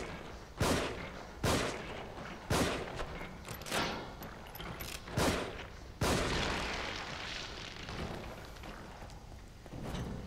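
Pistol shots in The Evil Within horror game, about seven loud single reports spaced a second or so apart, each with a ringing reverberant tail, near and alone.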